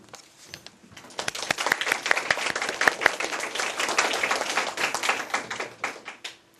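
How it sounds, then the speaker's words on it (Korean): An audience claps for themselves during a motivational talk, scattered claps building quickly into a dense burst of applause, holding strong, then tapering off. "이쯤에서 여러분 자신에게 박수를 하십시오."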